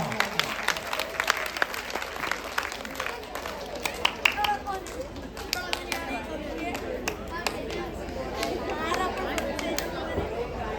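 Audience applause at a men's oppana dance performance, a dense stretch of rapid hand claps from a crowd, with voices and chatter mixed in throughout.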